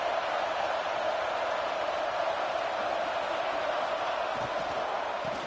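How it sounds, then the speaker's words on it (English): Football stadium crowd at a college game, a steady dense roar of cheering voices filling the whole stretch, loud and unbroken with no single voice standing out. "this crowd is fired up. Listen to this noise here."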